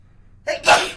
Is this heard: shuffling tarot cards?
no